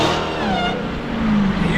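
A Dodge Hellcat's engine revs loud and close in traffic, a steady throaty roar that swells slightly toward the end, with no talk over it.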